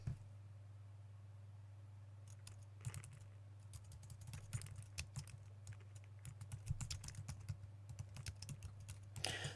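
Keys clatter on a computer keyboard in irregular bursts of soft clicks, quiet and close, over a steady low electrical hum.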